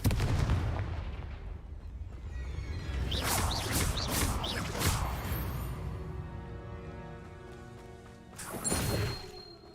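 A Confringo fire spell blast in Hogwarts Legacy: a rumbling explosive burst with crackling bangs, followed by a sustained low roar and a second sharp crash near the end.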